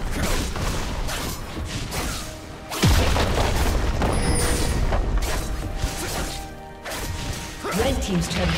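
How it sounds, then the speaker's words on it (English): Turret destruction in League of Legends, a loud crashing boom near the middle followed by continued dense game effects and crumbling impacts, with a voice speaking over the mix. "Red Team's turret has been destroyed."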